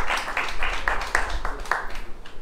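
Children in a team quiz contest on accounts applaud a correct answer with brisk, rhythmic clapping from a small group, moderately loud and steady for a couple of seconds before fading.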